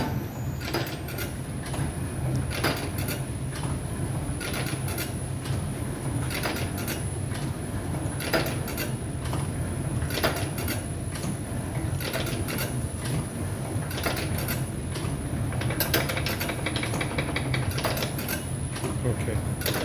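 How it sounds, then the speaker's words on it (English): An automatic cigarette rolling machine runs steadily in a workshop, giving a continuous mechanical whir with fast repeating clicks and a thin high whine throughout, while people talk over it. "Now you see we have about now 15 machine at stock. And now we will start."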